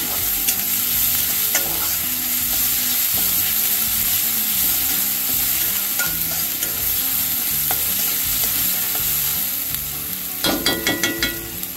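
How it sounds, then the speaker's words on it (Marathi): Chopped onion fries in a pan for a broad beans bhaji, a loud, constant sizzle with repeated spatula stirring and scraping, ending in a burst of clattering strokes, close by with no speech. "कांद्याचा कलर बदलेपर्यंत कांदा भाजून घ्यायचा"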